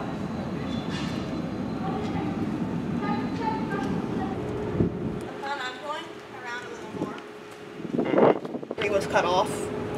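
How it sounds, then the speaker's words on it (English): A train passes near an underpass in Cologne, a rumbling, rattling wash of rail noise with a sustained hum that fades, while people talk over it throughout. "There's a train coming out of that underpass."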